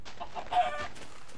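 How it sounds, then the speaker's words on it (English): Chickens cluck in Minecraft, a short, close burst of game fowl calls heard on their own with no talking. "There's some chickens."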